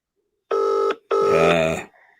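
A telephone rings twice in loud, close bursts with a short gap between them, an unanswered call heard alone with no voices.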